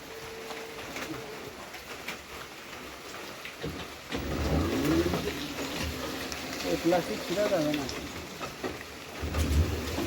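Rain falls steadily and runs off a plastic sheet as thunder rumbles low in the background, with voices faintly audible now and then.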